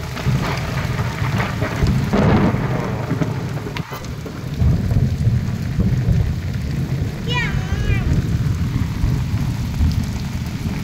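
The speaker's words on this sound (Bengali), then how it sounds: "বৃষ্টি দিচ্ছে।" Heavy outdoor rain pours steadily with rumbles of thunder, while children's voices and brief high chirps rise faintly through the downpour.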